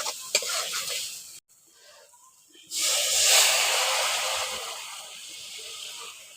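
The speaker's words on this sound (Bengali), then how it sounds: "এবার পরিমাণ মতো জলটা দিয়ে দিচ্ছি।" Water poured into a hot pan of prawn dopiaza bursts into a loud, sudden hiss after a brief near-silence, then the steamy sizzle slowly fades while staying strong to the end.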